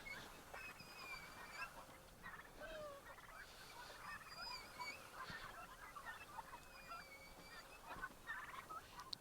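Turkeys and other fowl gobble and call on a pasture poultry farm, several birds at middle distance over a steady outdoor background hiss, with no talking.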